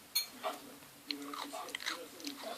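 Someone bites and chews a Biotte yogurt snack from E-mart, giving a few soft, close crunching and mouth sounds in short bursts, with quiet breaths between them.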